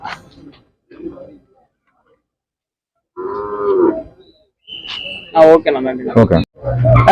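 Kangayam cattle moo at a country cattle market, several loud, drawn-out calls close by, mixed with people talking in short bursts.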